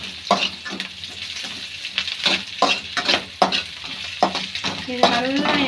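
Pasta ingredients fry in a little oil while being stirred, a close crackling sizzle punctuated by repeated rhythmic scraping strokes of a spoon against the pan, with no voices.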